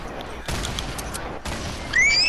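Grenade launcher fire in the game Fortnite: two heavy booming bursts spaced about a second apart over steady background noise, followed by high whistling tones at the end.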